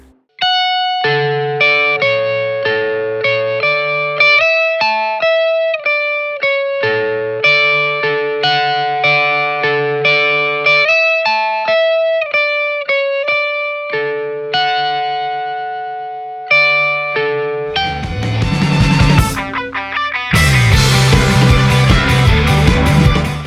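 An electric guitar with the amp's gain turned very low and the ProCo Rat bypassed plays clean, ringing chords and picked notes for a long stretch, then shifts to a denser, grittier strummed passage near the end.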